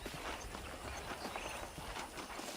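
Horse hooves clip-clop at a steady walking pace on a ranch in the Red Dead Redemption video game, faint and even under a soft background hiss.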